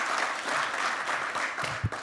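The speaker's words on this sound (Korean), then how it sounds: "여러분 박수로 환영으로 맞아주시기 바랍니다" An audience claps in welcome of a National Assembly member at a talk concert for Vietnam War veterans and their families, giving brief, dense applause with a soft thump near the end.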